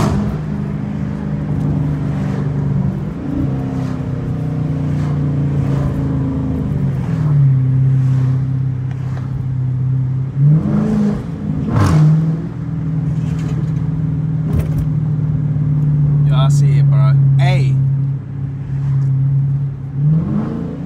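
Dodge Challenger RT engine revving repeatedly in a yard, loud rising and falling exhaust drone close by, with sharp crackles and pops from the exhaust between revs.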